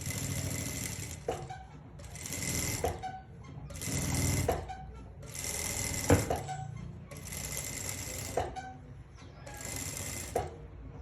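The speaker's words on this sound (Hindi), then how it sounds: "अब इसको मैं पलटी करके अस्तर की साइड पे धार स्टिच लगा दूँगी।" A sewing machine runs a seam along a blouse lining in six steady bursts of rapid mechanical whirring, separated by short pauses with small clicks and handling noises, close up and moderately quiet.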